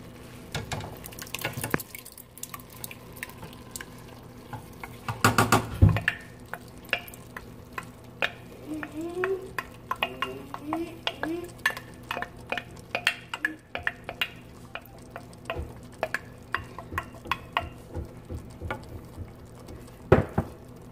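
Crushed tomatoes being stirred into a meat sauce in a pot for lasagna: soft wet scraping and clinks of a spoon against the pot, steady and close, with a louder burst of stirring partway through and no talking.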